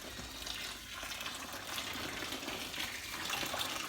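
Boiling hot water, about 1.5 litres, pours steadily onto gooseberries, elderflowers and honeysuckle for homemade country wine, a continuous close splashing rush with no voices.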